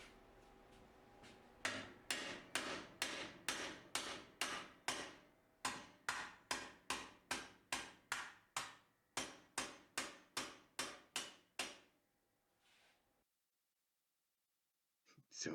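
Rapid, evenly spaced hammer blows in a workshop ring out, around twenty sharp metallic strikes in steady runs with brief pauses, close and loud.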